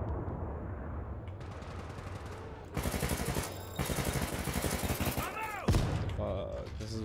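Rapid automatic gunfire from a first-person shooter video game, a 60-round magazine weapon, rattling in dense bursts with sharp louder shots, a person talking over the game noise throughout.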